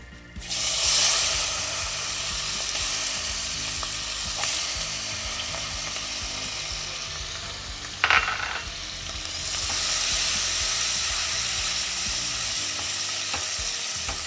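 Capsicum frying in a pan with cardamom, cinnamon and star anise for bagara rice, a loud continuous sizzle that swells and ebbs, broken by a sharp metallic clatter of a utensil partway through.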